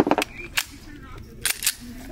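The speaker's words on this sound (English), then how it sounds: "Smack, rock the slide." A handgun slide racked with a quick smack and snap, giving two short metallic clacks near the start and two more further on, with quieter background noise between them.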